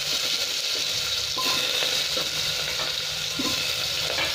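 Loud, close sizzling of potatoes frying in hot oil with spices, with scattered stirring scrapes and clatter, continuous throughout without speech.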